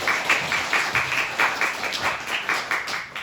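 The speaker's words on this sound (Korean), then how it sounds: "우리 격려와 감사의 박수 한번 하겠습니다" A church congregation claps in thanks, a short burst of brisk, rhythmic applause with individual claps audible.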